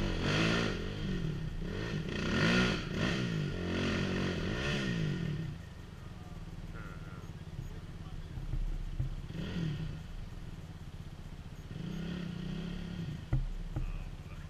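An off-road motorcycle on a rocky hill climb revs hard in loud rising and falling bursts, then idles and blips its throttle more quietly, with rocks scraping and clattering and people talking nearby.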